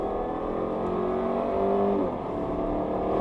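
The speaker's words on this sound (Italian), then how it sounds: "giù tutto l'acceleratore, sentiamo il rumore." An Audi A5 g-tron running on natural gas revs hard under full acceleration, a steady loud roar with rising pitch that dips briefly midway before continuing.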